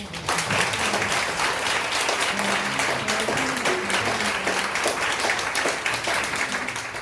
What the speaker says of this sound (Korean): 세 분의 우리 스승님들에게 큰 박수로